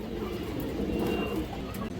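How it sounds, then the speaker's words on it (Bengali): Afsan Bagha pigeons coo softly in a loft, a faint, low, continuous murmur of cooing. "পিওর আফসান বাঘা কবুতর যেগুলো আছিল এগুলো দেখেন"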